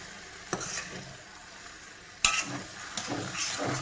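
A pan of roasted brinjal and tomato bhaji with paneer being stirred, giving soft sizzling with a few scraping spoon strokes, clearer bursts near the start and middle, steady and close with no talking.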